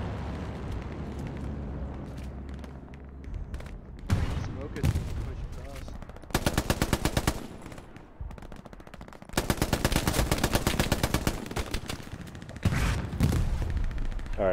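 MG22 machine gun fire in the World War II shooter Hell Let Loose, heard as several loud sustained automatic bursts with rapid even rounds, alongside other gunfire and battlefield rumble.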